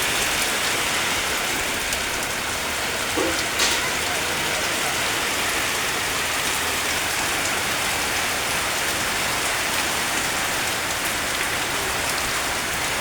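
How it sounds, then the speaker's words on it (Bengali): Heavy rain pours down continuously, a dense even hiss of drops hitting surfaces with no letup, loud and close throughout. "আবহাওয়া ভালোই ছিল, হঠাৎ করে বৃষ্টি আবার।"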